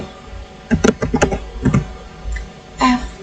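Computer keyboard typing while entering an IP address on a Cisco networking interface: two quick bursts of several clustered keystrokes, fairly close and clear, with a sharper single tap near the end and no talking.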